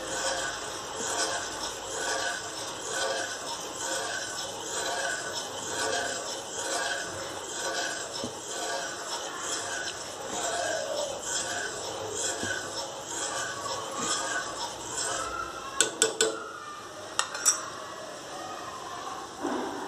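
Pearl millet flour porridge stirred steadily in a pot, a continuous rhythmic rasping scrape for a long stretch, followed by a few sharp clinks near the end.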